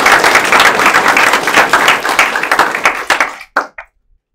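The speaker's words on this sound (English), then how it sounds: "Would you please give all of that group a round of applause?" An audience applauds student services staff at a career and technical education signing day, steady dense clapping across the room that thins out and ends with a few last scattered claps.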